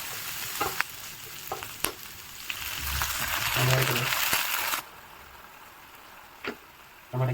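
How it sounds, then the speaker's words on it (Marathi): Ginger, green chili and curry leaves frying in a pan, a steady close sizzle with stirring scrapes and crackles, easing off partway through to a quieter hiss with occasional clinks. "फ्राय करून घेऊया।"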